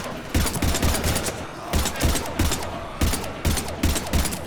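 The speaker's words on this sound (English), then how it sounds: "we're taking heavy fire." Gunfire in the video game Mass Effect Legendary Edition: dense bursts of rapid automatic shots in repeated volleys with brief pauses, loud and close, in a heavy firefight.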